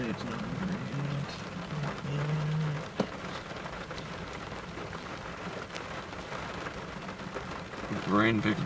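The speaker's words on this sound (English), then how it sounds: "The rain picks back up." Steady rain falls during a severe thunderstorm in Cambridge City, Indiana, a constant wash with a brief cow moo and a passing low rumble, while people talk quietly over it.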